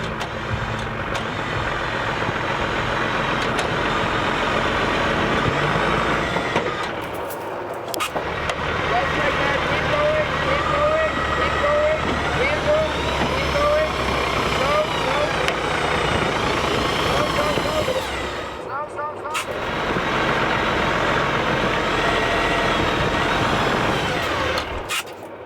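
A tow truck's engine runs loud and steady while its winch hauls an overturned camper van upright on a collapsing road in Sweden, the drone dropping out briefly twice, with people talking over it.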